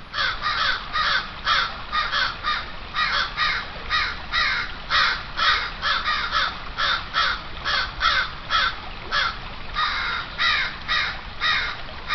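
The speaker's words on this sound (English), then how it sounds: "a hawk bathing in the stream, and the crows are not happy about it whatsoever" Several crows caw repeatedly in harsh, rapid bursts at a hawk bathing in a stream outdoors, loud and close, overlapping calls continuing throughout with no speech.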